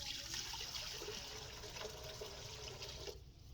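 About one and a half litres of water runs into a pressure cooker, a steady rushing pour that holds level and close before easing off at the very end.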